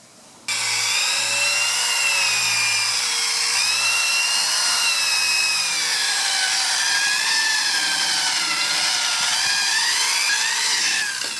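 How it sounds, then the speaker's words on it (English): A power buffer polishes scratches out of car paint, a loud continuous high-pitched whine with wavering pitch that runs steadily for about eleven seconds. "Now we'll go ahead and buff these out."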